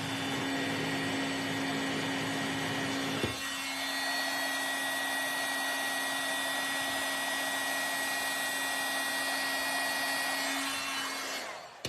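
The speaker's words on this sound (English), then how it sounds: "There's going to be just a little bit of heat noise from the heat tool." A craft heat tool blows steadily for about twelve seconds, a loud, even, hair-dryer-like whoosh with a constant whine, its tone shifting slightly early on and cutting off at the end, with no voices.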